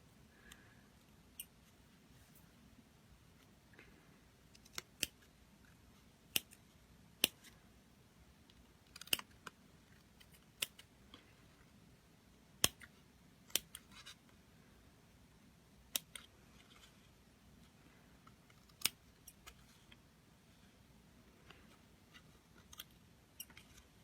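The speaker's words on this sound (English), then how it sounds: "These scissors need to be sharpened." Dull scissors snip quietly through felt at irregular intervals, a dozen or so faint crisp cuts spread over a hushed room.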